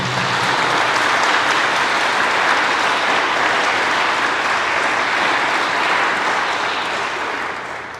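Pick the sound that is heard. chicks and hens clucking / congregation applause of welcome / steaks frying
congregation applause of welcome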